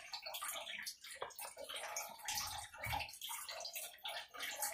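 A small paintbrush is dropped and swished in water, giving close splashing, sloshing and gurgling that rises and falls over several seconds, alone without talk.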